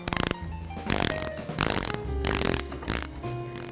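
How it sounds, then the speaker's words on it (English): A ratchet with a 14mm socket snugs a bolt on a Glidecam Camcrane 200, producing several short, close bursts of clicking with brief gaps between swings. "Now you're going to use your 14mm socket on your ratchet and your 14mm wrench."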